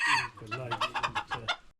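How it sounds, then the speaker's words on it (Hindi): A rooster of a local breed at a bird sanctuary in Dhirkot, Azad Kashmir, clucks in a quick run of short, close, fairly soft notes that end abruptly. "माशाल्लाह जी ए मुर्गा एक"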